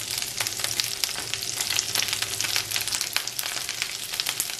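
Asparagus sautéing in a pan gives a steady, dense sizzle with scattered crackles and pops, continuous and fairly close throughout, with no talking.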